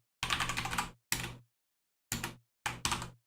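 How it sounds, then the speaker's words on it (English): Fingers type on a computer keyboard while entering Betaflight CLI commands, in four short, close bursts of rapid key clicks separated by brief silences. "basically what I do is I type in"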